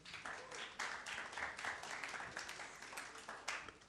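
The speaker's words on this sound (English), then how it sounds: "Applause, please." Crowd applause at a startup pitch session of a young entrepreneurs' forum in Kazan, a steady wash of many hands clapping across the hall, moderately distant and even throughout.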